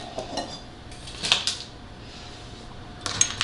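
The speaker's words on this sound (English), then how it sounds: "I'm going to put them into a large bowl" Cut dough pieces for monkey bread dropped into a large bowl, a few scattered clinks and clatters of bowl and utensil in short bursts separated by quiet, close by with no talking.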